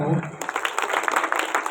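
Audience applause at a village social service association's 75th anniversary celebration, a dense crackling burst of many clapping hands that swells after a brief pause and keeps going steadily, fairly loud throughout.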